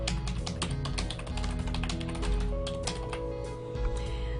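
Steady typing on a computer keyboard, a fast, close run of crisp key clicks with a few irregular pauses and no voices.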